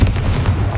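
A Confringo blasting spell explodes in Hogwarts Legacy, a loud, dense, booming burst with a thick low-end rumble that fills the whole short moment.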